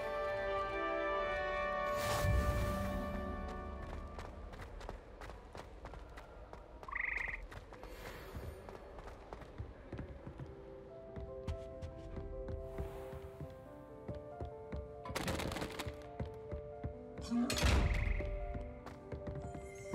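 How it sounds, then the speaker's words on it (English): Hogwarts Frog Choir frogs in Hogwarts Legacy croaking in a layered, musical chorus, with scattered deeper croaks and soft taps over a quiet, sustained tonal background. "Here perch the slimy yet symphonic frogs that comprise the Hogwarts Frog Choir"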